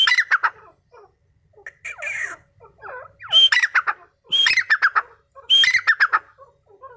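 A Dakhni Irani teetar partridge calls after a whistle, giving loud, close, repeated squawking phrases in bursts with short pauses between them, alone without talk.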